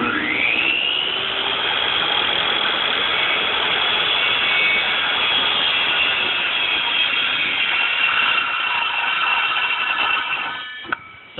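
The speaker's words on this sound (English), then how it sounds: "when you spin the saw, you never touch the piece" A power saw spinning at steady high speed, a sustained whining hum that holds loud and even for about ten seconds before slowing near the end, with no talk.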